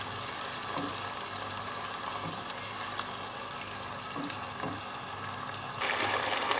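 Tomato paste and onion masala gravy frying in a pan, a steady low hiss and sizzle running evenly throughout with faint stirring scrapes, growing slightly louder near the end, no talking.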